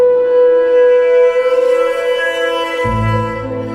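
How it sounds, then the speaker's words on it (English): Piano strings bowed with violin-bow horsehair produce a sustained, eerie drone with shimmering overtones and slight wavering, joined near the end by a deeper swelling low tone, close and fairly loud. "used a horsehair from a violin bow to bow the strings on the piano."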